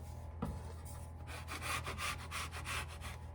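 A spatula scrapes under a cinnamon salt dough gingerbread man, giving a short soft thump followed by a run of quick, close, dry rubbing scrapes, with no talk.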